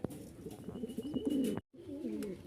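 Several high-flying Rajshahi Giribaz pigeons coo in low, rolling, overlapping calls nearby, broken by a brief moment of silence before the cooing resumes.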